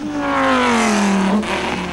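Race cars at the 24 Hours of Spa 2001 circuit accelerate on track, a loud continuous engine roar with a falling pitch sweep as cars pass close by, dense and sustained with no talk.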